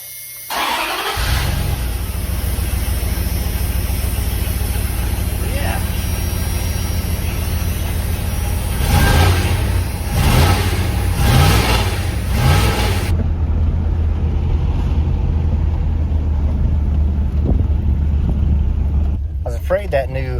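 A Dodge fitted with a new exhaust and high-flow catalytic converter runs loud and close. The engine idles steadily, then gives several sharp revs in the middle before dropping back to a smoother, quieter idle.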